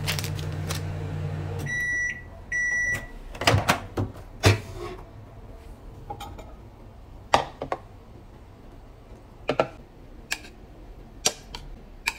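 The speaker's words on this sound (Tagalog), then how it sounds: "So, ima-microwave ko lang to." A microwave oven reheats cooked broccoli with a steady hum, then gives a run of high electronic beeps, followed by scattered clicks and knocks of the door and handling.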